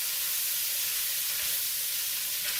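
Onion frying in a pan gives a steady, close, broadband sizzle that holds evenly throughout, with no distinct stirring strokes standing out.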